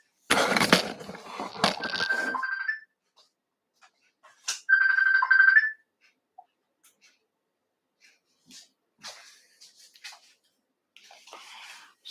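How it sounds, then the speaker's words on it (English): A phone rings with an incoming call during a live video chat, two bursts of a tonal electronic ringtone with a pause between them, fairly loud and close, followed by faint scattered noises. "Somebody's calling me"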